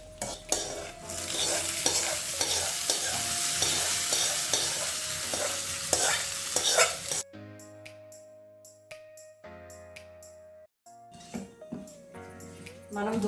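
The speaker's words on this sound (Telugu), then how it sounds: "పోపు బాగా వేగిపోయిందండి. ఇప్పుడు మనము ముందుగా రెడీ చేసుకుని చట్నీలో పోసుకుందాం" A sizzling tempering is poured into coconut chutney, loud crackling and hissing with stirring clatter for several seconds, then dying away into sparse clinks and quieter pops.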